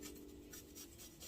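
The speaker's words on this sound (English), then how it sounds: "I'm going to grate my garlic." Garlic cloves are rubbed against a grater in a kitchen, a faint, quick rhythmic rasping of short repeated strokes with no talking.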